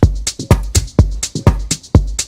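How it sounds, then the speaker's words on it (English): Drum loop processed with a transient shaper, sustain cut and attack boosted, so kick and snare hits sound short, snappy and clicky; a loud steady groove with sharp repeated hits and little ring, no talk. "I could go even farther and increase some of the attack."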